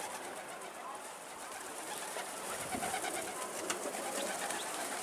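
Domestic pigeons coo softly in a rooftop loft setting as the flock settles, low murmuring calls beneath a faint airy background with a few light flutters.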